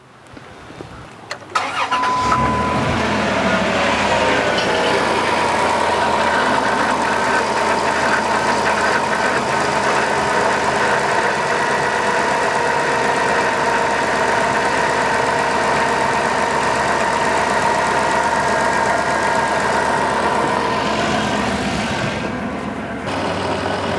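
A 2001-2007 Dodge Grand Caravan engine cranks briefly, catches, and settles into a steady, even idle that holds for about twenty seconds, close and continuous with no voices.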